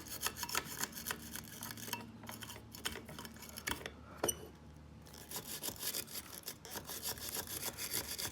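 Scraggly brass brush scrubbing oxidation off a stainless steel mirror housing on a 1994 Mercedes C280 W202, rapid close scratchy back-and-forth strokes in bursts with a few brief pauses, no talking.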